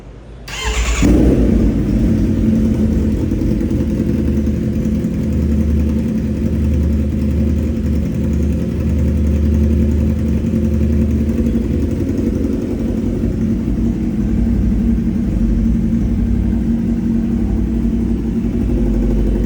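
A 10R truck engine cranks and catches about a second in, then settles into a steady, loud, close idle that holds unbroken for the rest of the stretch, with no voices.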